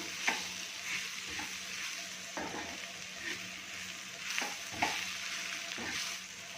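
Dry fish and ambadi greens frying on a tawa while salt is mixed in, giving a soft steady sizzle with occasional scraping stir strokes, moderately close and without talk.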